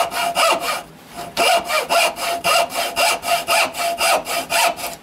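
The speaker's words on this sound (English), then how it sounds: "Yes, that's a metal hacksaw." A metal hacksaw cuts through wood in loud, rhythmic back-and-forth strokes, about three per second after a brief pause, close and unaccompanied by talk.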